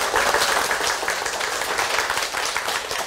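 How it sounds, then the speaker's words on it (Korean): An audience at a talk on buying a new apartment claps together, a full, even burst of applause that carries steadily from start to end with no talking over it. "박수 한번 쳐주세요"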